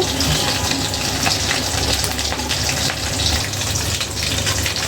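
Chopped coriander leaves rinsed under a running kitchen tap, a steady, close water gush and splash that continues evenly throughout with no talking.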